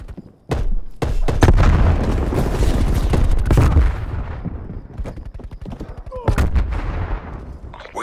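In Call of Duty: Black Ops Cold War multiplayer, a grenade goes off amid heavy gunfire, producing loud booming blasts and rapid shots up close, then quieter scattered firing before another sharp burst.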